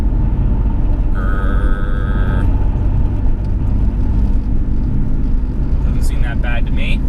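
A BMW E46 with new Revshift engine and transmission mounts cruises in fifth gear below 2,000 RPM, a constant low grumbling drone heard from inside the cabin while someone talks over it.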